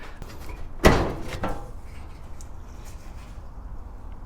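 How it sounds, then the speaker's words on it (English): The door of a homemade drift kart still without a proper hinge gives one sharp knock as it is handled, followed by a softer rattle, close by against quiet background noise. "Let's open this door up."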